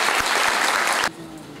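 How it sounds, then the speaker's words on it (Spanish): An audience at a higher education congress applauds, dense clapping that stops abruptly after about a second, leaving quiet room tone. "Vamos a darle un aplauso a Washington"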